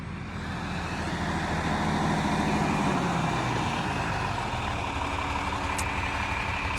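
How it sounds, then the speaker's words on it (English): A John Deere 4020 farm tractor idles steadily close by beside a soybean field, its diesel engine giving a continuous low rumble throughout with no talking. "So that's the classic John Deere 4020. It's the greatest tractor ever made."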